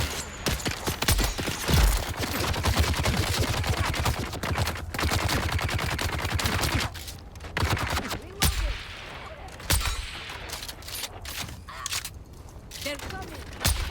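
Gunfire from a gun in the video game Dune: Awakening, rapid bursts of shots cracking repeatedly through the scene, dense and loud with brief pauses, while game voices shout briefly between the volleys.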